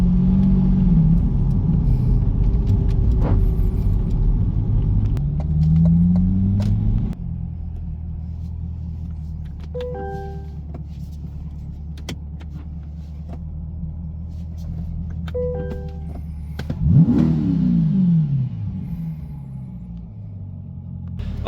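A 2020 Corvette Stingray with the 6.2 V8 and some upgrades runs steadily with a low, continuous rumble, and two brief blips of revving rise above the idle.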